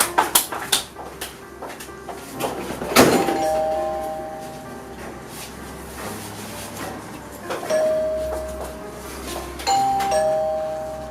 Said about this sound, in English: Somto, Why are you pressing the house bell like that?